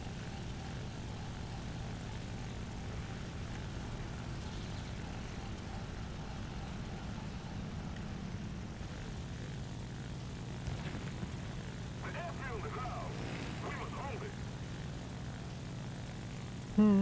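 A Su-2 propeller plane's engine drones steadily through an air battle in War Thunder, a continuous low hum with a few faint higher tones appearing briefly near the end.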